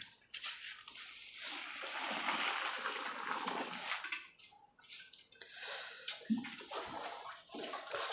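Water pours steadily and splashes into a large pot set on a stove, filling it for cooking porridge for cattle; a continuous rushing stream with no talking.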